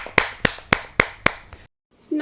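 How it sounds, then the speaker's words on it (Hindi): Five sharp, evenly spaced claps ring out close and loud, welcoming a poet at a Hindi poetry gathering, then stop abruptly into silence before a voice begins. "जोरदार ताली के साथ"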